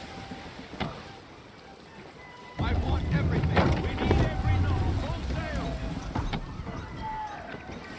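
Wind rushes and water churns around a sailing ship under half sail in Assassin's Creed III, a steady loud whoosh of sea and canvas that swells partway through and carries on with creaks and splashes.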